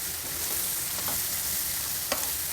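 Chitranna paste with chopped coriander leaves is stirred in a hot pan, a low sizzle under soft scraping strokes of a spatula and one sharp clink near the end.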